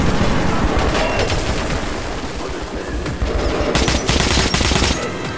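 Sustained automatic gunfire in Metro 2033 Redux during a hardcore fight at Armory Station, a loud continuous rattle of rapid shots with heavier bursts near the end and no talk.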